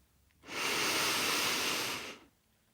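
One long breath drawn in during a progressive muscle relaxation exercise, a smooth airy rush lasting under two seconds, close and alone in quiet.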